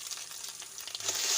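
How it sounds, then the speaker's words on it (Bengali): Cumin paste frying in oil with ginger garlic paste gives a quiet, steady sizzle that swells slightly toward the end. "এবার বন্ধুরা আমি জিরে বাটাটা দিয়ে দেবো।"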